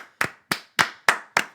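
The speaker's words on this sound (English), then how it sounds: "I say that deserves a 3-second clap." Five sharp, evenly spaced hand claps from a single person, close and dry with quick decays and silence between them, cheering a Texas Rangers pitcher signing.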